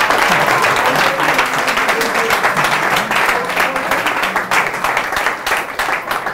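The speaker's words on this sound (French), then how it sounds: "Est-ce qu'on peut applaudir pour Régis Atangana?" A room full of people applauds steadily, a dense wash of clapping that slowly thins toward the end.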